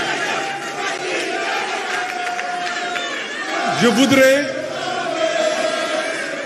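A crowd at a political coalition gathering applauds and cheers steadily and loudly, with voices shouting over the clapping and a swell of cheering partway through.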